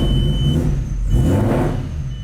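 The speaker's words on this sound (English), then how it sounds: "So you guys hear my car start up." An Audi with a swapped VR6 engine turns over and catches after its fuel pumps prime, giving a low, close engine rumble with a brief swell midway and a faint steady whine underneath; no one speaks.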